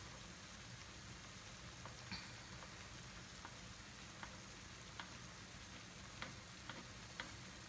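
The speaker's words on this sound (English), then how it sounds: "So we're just going to baste it in the cooking liquid, and it'll cook from the top." An egg bastes in hot cooking liquid in a pan, giving a faint, steady sizzle with small scattered pops and ticks, quiet and unaccompanied by voices.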